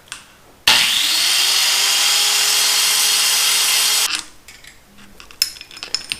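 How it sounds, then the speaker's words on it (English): A power grinder cutting through the links of an electric bike chain, a loud continuous high-pitched whine lasting about three and a half seconds before cutting off, followed by faint clinks and handling noises. "I'm gonna have to do this the old-fashioned way, which is to just grind it until it comes apart."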